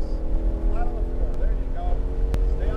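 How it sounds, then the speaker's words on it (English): A race car engine climbs in pitch as the driver rolls onto the throttle on a driving-experience track. The drone is steady and loud, and someone talks over it. "And now you're starting to roll on that throttle pedal."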